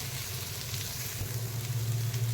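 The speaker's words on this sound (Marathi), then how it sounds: "आता ह्यामध्ये मी जे आपण किसलेलं रताळा आहे ते घालून घेणार आहे ते पण चांगलाच भाजून घेणार आहे" Grated sweet potato roasts in a pan for a halwa, with a soft continuous sizzle and a low steady hum beneath, gently scraping and stirring at moderate volume.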